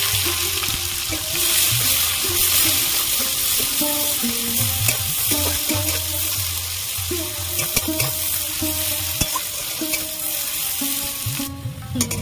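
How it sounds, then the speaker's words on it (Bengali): Chopped onion fries in hot oil with whole cumin for a koi fish curry, a continuous loud sizzle broken by stirring clatters and scrapes, with no talking over it. "পেঁয়াজ কুচি দিয়ে দেবো,"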